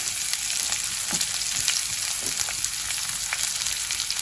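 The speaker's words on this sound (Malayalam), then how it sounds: "ഇഞ്ചി, പച്ചമുളക്, വെളുത്തുള്ളി ഒന്ന് ആയിട്ട് നമുക്ക് അതിനകത്തോട്ട് സബോളയും കൂടെ ചേർക്കാം" Sliced onion frying in hot oil with ginger, green chilli and garlic for a vegetable stew: a dense, steady sizzle with brief crackles and soft stirring scrapes, close up and without talk.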